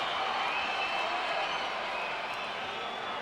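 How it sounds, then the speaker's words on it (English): A boxing arena crowd cheers for Oscar De La Hoya before his fight with Ricardo Mayorga, a steady distant roar of many voices that holds at an even level throughout. "Crowd in the arena is still responding favorably for Oscar De La Hoya."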